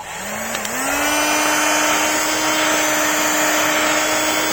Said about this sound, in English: what I've been doing is grabbing my old blower